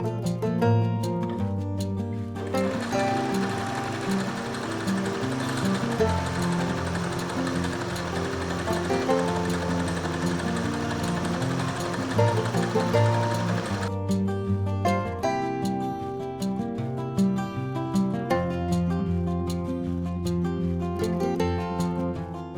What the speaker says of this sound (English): now we're actually gonna get to sewing